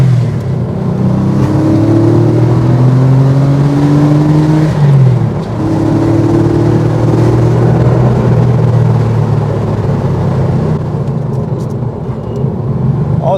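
A Porsche 964 Carrera engine accelerates hard on an early-morning road, loud and close, its revs climbing in sustained rising pulls with a brief dip between gear changes.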